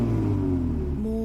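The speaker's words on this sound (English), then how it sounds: "The piston firing sequence in the 5-cylinder Audi RS engines is 1, 2, 4, 5, 3." A five-cylinder Audi RS engine revs steadily and close, a sustained droning note with a slight rise in pitch toward the end, with no voices over it.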